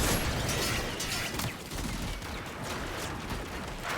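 Dense, sustained gunfire from several weapons in a chaotic Warframe mission, a continuous fusillade of overlapping rapid shots filling the whole stretch at steady loudness.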